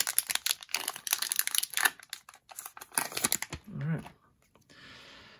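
Scissors snip and crinkle through the plastic wrapping of hockey card packs in quick irregular cuts, close up, ending with a soft rustle of packaging.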